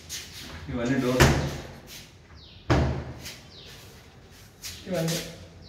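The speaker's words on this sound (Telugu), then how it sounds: "ఇవన్నీ డోర్స్ అండి." Aluminium kitchen cupboard doors are opened and shut in a few sharp knocks and slides, several distinct bangs spaced a second or two apart, while a person talks close by.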